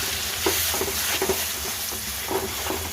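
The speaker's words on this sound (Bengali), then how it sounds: "তেল গরম হয়ে গেছে এবারে এই ডালের পেস্টটা দিয়ে দেবো কড়াইতে" Lentil paste fries in hot oil in a kadai, a steady broadband sizzle with a few soft scrapes of stirring, close and fairly loud, no voices.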